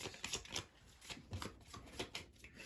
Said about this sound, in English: I kind of shuffle the cards that came out and see which way they come out.